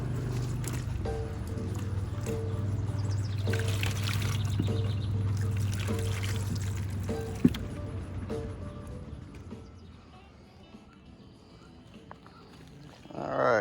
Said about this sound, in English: we're running water across the top of the mash. It's gonna filter down through the mash grain bed, and we're gonna run it into the boil kettle